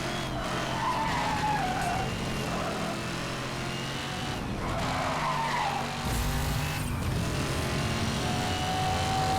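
A car oversteering through a race in Need for Speed Hot Pursuit Remastered, with continuous loud engine roar and repeated squealing tire skids sweeping up and down over several seconds, no talk heard.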